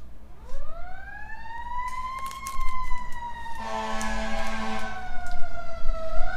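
A loud siren wails upward and holds, then a second tone joins, with a clanking bell-like clatter underneath.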